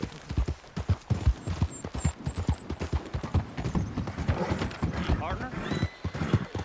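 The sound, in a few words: horse galloping in Red Dead Redemption 2 video game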